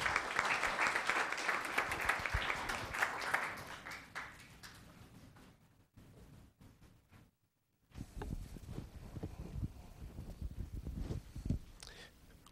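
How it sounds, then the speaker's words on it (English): Audience applause at a Los Gatos town council meeting, a dense burst of clapping for the first four seconds that fades out, followed by quieter room noise and scattered low thumps. "let's give him a round of applause."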